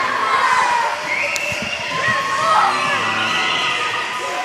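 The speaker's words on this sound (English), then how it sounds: "They've done the chant, they've done the cheer" An indoor ice arena crowd before a Western Australia versus New South Wales ice hockey game cheers and shouts steadily, with whoops and some raised voices forming a dense, continuous roar for several seconds.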